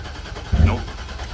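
A 2003 GMC 2500HD gasoline truck with a hard-starting, hesitating engine cranks briefly and then catches with a short, low rumble that settles back under steady background noise.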